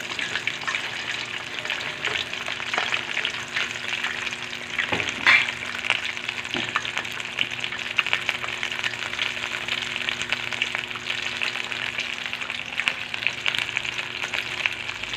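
Tuna fish frying in a pan, a steady close hiss of oil sizzling throughout, with a few faint clinks and stirs mixed in.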